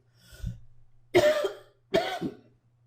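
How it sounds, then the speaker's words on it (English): Three separate coughs, close and fairly loud, the first softer and the next two harsher, with short quiet pauses between them. "I got a little coughing to do here"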